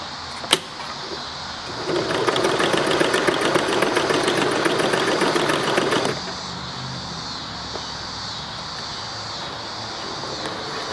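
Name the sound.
Dressmaker 100 sewing machine stitching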